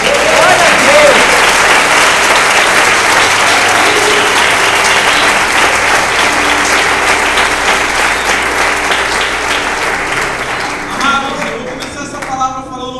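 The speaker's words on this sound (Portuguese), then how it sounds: "então dê uma salva de palmas a Deus" A church congregation gives loud, sustained applause that fills the room for about eleven seconds, with cheering voices mixed in, then thins out to scattered claps near the end.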